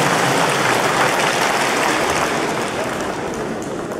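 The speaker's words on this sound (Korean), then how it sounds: "큰 박수 부탁드리겠습니다." Sustained audience applause at a Busan commemorative ceremony for Korean Vietnam War veterans, a thick, rain-like patter of many hands filling the hall and easing slightly toward the end.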